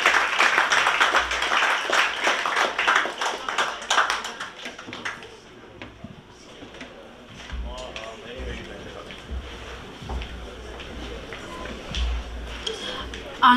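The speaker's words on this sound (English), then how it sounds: "Clap your hands." An audience at a secondary school graduation ceremony claps loudly for about five seconds, then the applause fades out while a voice speaks over scattered taps and low thumps.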